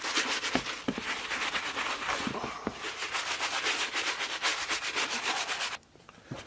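A brush scrubs dirt off a black Cement 3 sneaker in rapid, continuous back-and-forth strokes, close and rasping, before it drops to near quiet at the end.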